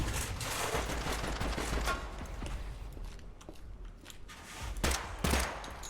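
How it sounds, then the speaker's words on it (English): Fascist enemies open fire in a shooter video game, with rapid scattered gunshot bursts crackling continuously at moderate loudness and a few heavier, closer shots near the end. No voices are heard over the shooting. "The fascists were opening fire on me"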